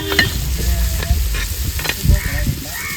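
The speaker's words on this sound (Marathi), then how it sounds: "कांदा, लसूण, टमॅटो, मिरची" Onion, garlic, tomato and chili fry in a pan, sizzling steadily while being stirred with scraping, clattering touches, with no talking over it.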